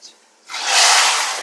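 A sudden loud hiss and sizzle bursts up after a short quiet moment as hot tempering is poured into dal, holding steady and close.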